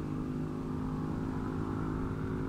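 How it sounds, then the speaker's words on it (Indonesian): A loud motorcycle engine roars steadily close by, a dense low rumble that holds constant throughout without easing off. "ada motor kenceng suaranya"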